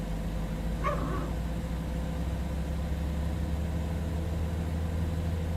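A dog barks once faintly in the background, a single brief yelp under the steady hum of a Citation X business jet starting its engines in Microsoft Flight Simulator 2024.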